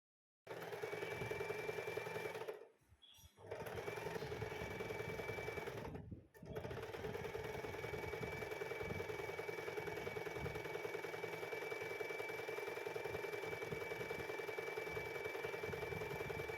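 A sewing machine stitches a puff sleeve with a steady, close, humming mechanical whir that runs for long stretches. It stops briefly twice for a second or so, then resumes at the same even pace.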